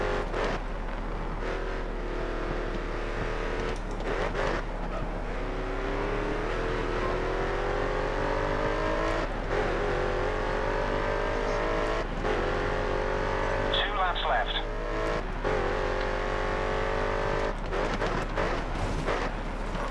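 Race cars in the game GRID Autosport, engines droning and revving up in rising pitch sweeps, close and loud through a continuous drive, with a voice talking over the engine.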